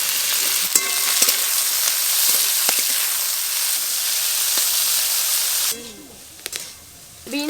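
Beans and carrots fry together in white oil with a strong, steady sizzle and occasional stirring clicks, close up; near the end the frying noise drops sharply, leaving faint clatter and a brief murmur.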